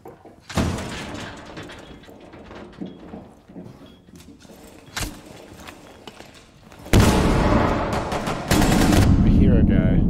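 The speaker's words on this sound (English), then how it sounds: "a lot of gunfire" Bursts of rapid video game gunfire in a siege battle, some sharp single shots and a loud sustained volley near the end, with scattered voices in between.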